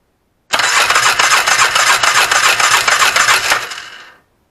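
The starter motor of a Yamaha Grizzly 600 ATV, fed 12 volts straight to the solenoid, cranks loudly and continuously for about three and a half seconds before it winds down.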